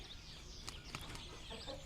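Frizzle chickens on a farm cluck softly in short, scattered calls with a few brief sharper peeps, fairly faint against a low background hum.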